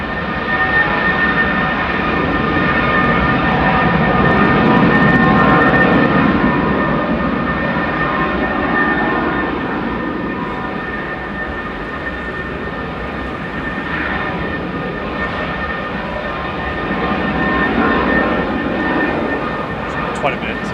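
Jet2 airliner engines roar steadily at Manchester Airport, a loud, continuous rumble with tonal whine holding across the whole stretch, swelling and easing slightly, with people talking over it.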